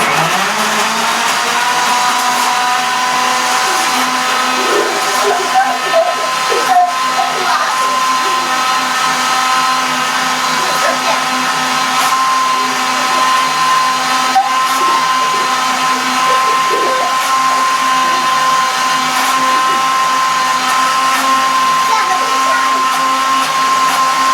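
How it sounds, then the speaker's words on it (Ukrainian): A blender runs continuously at high speed making a milkshake, a loud steady whir with slight fluctuations throughout and no pause. "Включай блендер."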